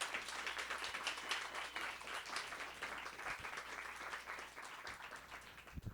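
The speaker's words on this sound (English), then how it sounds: "Give it applause." An audience at a literary reading applauds, a steady patter of many hands clapping that holds throughout at a moderate distance, fairly faint and without speech over it.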